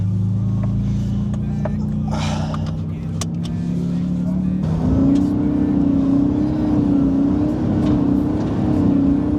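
Ford Shelby GT500 V8 heard from inside the cabin: the engine hums low, then revs up sharply midway and holds a loud, rising growl, while occupants talk over it.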